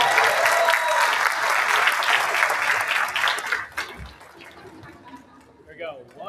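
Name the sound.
audience applause for a team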